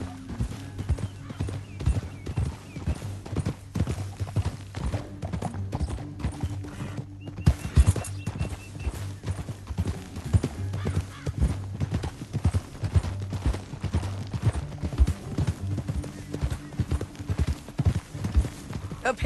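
Horse hooves clip-clop steadily at a gallop in the Red Dead Redemption 2 video game, a fast, even rhythm of close, loud thuds over a low rumbling bed, with an occasional snort or whinny.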